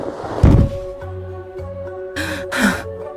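A body lands on a floor with a single heavy, low thud, then softer bumps and a pair of breathy, gasping sounds follow.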